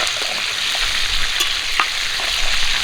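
Pieces of a large carp head, about 18 kg fish, fry in hot oil with a loud, steady, dense sizzle and occasional faint scrapes, no talking.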